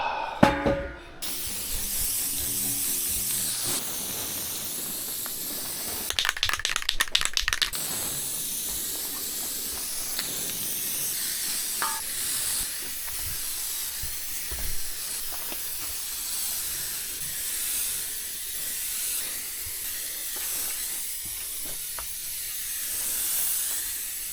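Aerosol protective paint hisses steadily onto a steel mailbox framework, a continuous close spray with brief louder bursts and small clanks, no voices.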